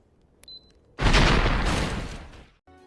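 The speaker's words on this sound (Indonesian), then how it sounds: "Carpenter meledakkan ranjau yang telah ia pasang sebelumnya." A planted landmine explodes as a film sound effect, a loud sudden blast that rumbles and fades over about a second and a half after a short quiet lead-in with a faint beep.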